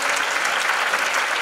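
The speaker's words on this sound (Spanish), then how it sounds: "quiero que la recibáis con un fuerte aplauso es Paula" Loud, dense audience applause welcoming a presenter at a tuna student-music contest, a crowd clapping steadily and close up throughout with no pause.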